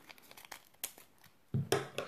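Trading card packs are torn open by hand: scattered crinkles and small tearing sounds, then a louder burst of ripping and crumpling foil near the end, close up with no talking.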